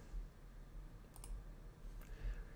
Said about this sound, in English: So I'm going to click OK.